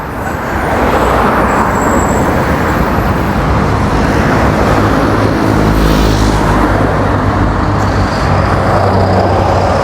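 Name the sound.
purple city buses and street traffic in Mexico City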